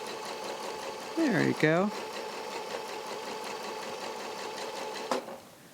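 Domestic sewing machine running a decorative stitch during free-motion quilting, a short rapid whirring burst in the middle under a steady background hum, with a person talking briefly.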